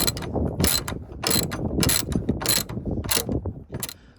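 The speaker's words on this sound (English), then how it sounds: "Grab your Allen bit and begin to tighten." An Allen bit driving a replacement screw on a 2020 Ford F-150 tailgate during a tailgate assist install, a rapid series of ratcheting clicks in short bursts separated by brief pauses, close and clear.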